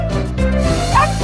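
A tiny Yorkshire Terrier gives a quick burst of high yips and barks, close and loud over a constant background hum.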